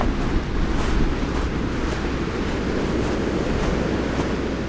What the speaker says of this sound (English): the waves are taking over the beach